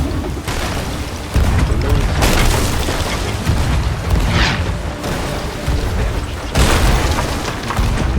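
Repeated heavy booms of ship cannon fire in Sea of Thieves, loud blasts landing every second or two in a dense, continuous barrage.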